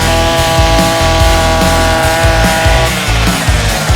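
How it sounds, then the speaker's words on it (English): A 52cc petrol brush cutter on a 5-in-1 garden multi-tool runs loud and close, its two-stroke engine holding a steady high buzz with slight pulsing changes in load, and no voices over it. "there are some bits which only brush cutters can do"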